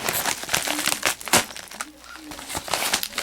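Plastic packaging for a Samsung Galaxy Note 3 two-in-one phone case crinkling and rustling up close during an unboxing, with a run of irregular crackly bursts and handling noises.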